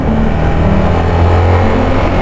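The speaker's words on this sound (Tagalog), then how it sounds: "Ang ganda ng tunog ng stock na makina, no?" A stock engine on a Yamaha Sniper 155 VVA motorcycle runs loud and close, a dense steady roar with slight swells in pitch as it is revved, heard alone without talk.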